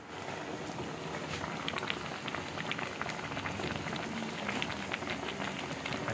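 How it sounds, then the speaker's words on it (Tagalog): Skipjack tuna simmers in broth for sinaing na tulingan, giving a quiet, continuous bubbling with dense small pops and crackles, close by and steady, with no talk over it. "Dagdag tayo ng sabaw hanggang siya lumambot."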